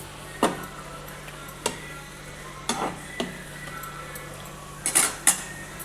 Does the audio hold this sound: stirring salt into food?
yes